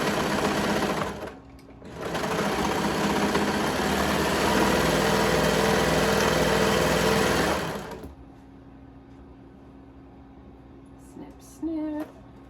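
Sewing machine running steadily through fabric at close range, a sustained motor whir that briefly dips, resumes for several seconds, then stops, followed by quiet room noise and a short clatter.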